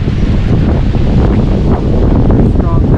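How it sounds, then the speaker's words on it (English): Strong wind buffets the microphone in loud, continuous gusts, a heavy low roar that never lets up. "Pretty strong gusts today."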